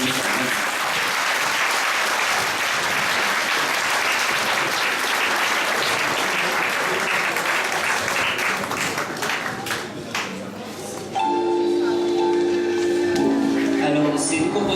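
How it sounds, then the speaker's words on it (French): Applause fills a school prize ceremony at a lycée, a loud, dense crowd clapping that holds steady for about ten seconds, then fades as music-like tones enter near the end. "Donc je voudrais que les applaudissements encore une fois."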